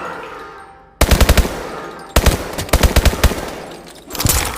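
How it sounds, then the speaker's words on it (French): Loud machine gun fire rings out in the Call of Duty Advanced Warfare video game, arriving as two rapid bursts of close gunshots separated by a short gap, with a third burst starting at the end. "Mitraillette à 12 heures!"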